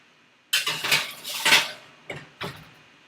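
A baking tray of oatmeal cookie dough slides into a hot home oven with a series of close metallic clatters and scrapes, a few sharp knocks and a final clunk, heard alone with no talking.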